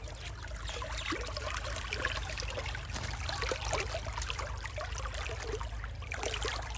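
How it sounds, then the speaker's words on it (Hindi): Fresh water from a farm tubewell flows out to irrigate crops, a continuous splashing trickle and gurgle heard close up over a low steady pump hum, with no talking. "ये ट्यूबवेल का ताज़ा पानी फसलों का सैराब कर रहा था।"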